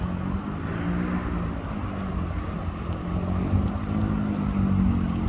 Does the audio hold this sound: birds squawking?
no